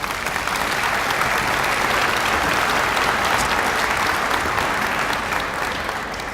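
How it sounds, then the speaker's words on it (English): An audience claps at the New US 460 highway dedication ceremony in December 2014, a steady, dense burst of crowd applause that holds evenly throughout before easing slightly at the end. "I'd like for you just real quick to give them a hand of applause."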